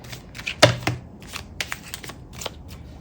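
A deck of cards is shuffled for a candle wax reading, giving a few quick crisp riffles and soft flicks up close in a quiet room.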